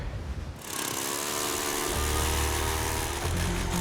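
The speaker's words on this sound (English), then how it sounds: "We drill another hole, hoping to hit the right spot." A motorized ice auger starts up and grinds steadily through frozen lake ice, a loud continuous engine drone with a churning buzz, close by and with no talking.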